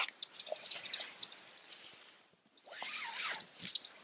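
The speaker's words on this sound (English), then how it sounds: "Seal those zippers back up." Zippers on a hammock bug net are pulled closed in two quick runs separated by a short pause, near and fairly loud against a quiet outdoor background.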